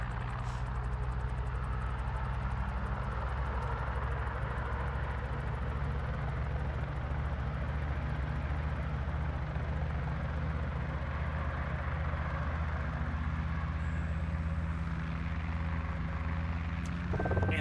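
A Guimbal Cabri G2 helicopter's engine runs steadily with its throttle rolled up toward 2,000 RPM, a constant loud droning hum with layered harmonic tones that holds evenly throughout and swells slightly at the very end.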